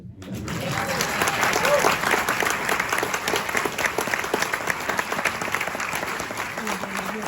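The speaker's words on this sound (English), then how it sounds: "you should applaud again" Sustained audience applause after a film screening and panel, a dense, steady wash of many hands clapping that stays loud for about seven seconds with no break.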